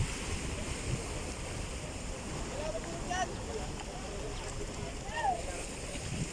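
Strong sea waves and wind roar steadily at a boat landing on a rough day, a constant noisy wash with occasional faint tonal sounds in the distance.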